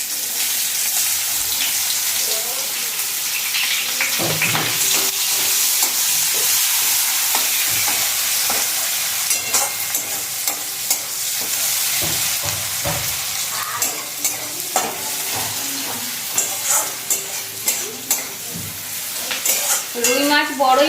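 Onions fry with black cumin in hot oil, giving a steady, loud sizzle throughout, with a spoon clinking and stirring against the pan more and more often toward the end.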